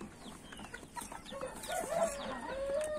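Chickens cluck outdoors on a small backyard flock, including a young cockerel, with several overlapping calls and squawks rising and swelling toward the end, fairly close and loud.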